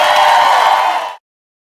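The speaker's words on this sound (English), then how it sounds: "Give a nice round of applause to my girl, Joanna Krupa." Studio audience applause on a television talk show, a dense, loud burst of clapping with a few whoops that holds steady and then cuts off abruptly after about a second.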